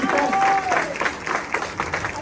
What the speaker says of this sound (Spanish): Un aplauso para los artistas.